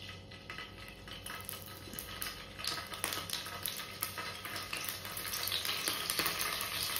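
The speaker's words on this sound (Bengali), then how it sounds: "এবার পনিরগুলোকে ভেজে নেব।" Paneer pieces fry in hot oil, a fairly quiet, continuous crackling sizzle with small sharper pops that grows slightly louder toward the end.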